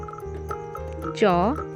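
A cartoon-style frog croak rises and falls in one warbling burst lasting about a quarter second. It sits over steady background music in a children's alphabet rhyme.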